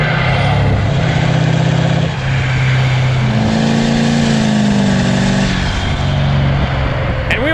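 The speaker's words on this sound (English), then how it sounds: "It makes really amazing exhaust notes" A tuned Nissan Titan pickup with a 5.0 Cummins V8 diesel revs hard through its exhaust, the loud, deep note climbing and falling in several sustained pulls up close, with no talking.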